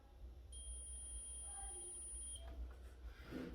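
A multimeter set to diode mode, used while checking a Dell Inspiron 17 7000 laptop for faults, gives one faint, high, steady beep lasting about two seconds in a quiet room.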